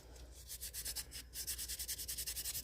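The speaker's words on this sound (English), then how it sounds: "We're going to sand this off while it's still fairly soft. I'm going to get the sandpaper fairly wet." Rapid, steady back-and-forth strokes of wet sandpaper rubbing a freshly cast, still-soft resin piece with vivid pigment powder, close and fairly loud, with a short pause partway through.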